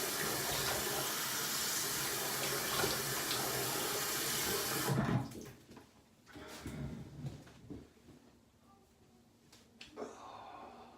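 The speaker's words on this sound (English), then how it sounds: "Cold water." Water gushes steadily from a tap for about five seconds, loud and close, then shuts off, leaving quiet handling noises and small clatters.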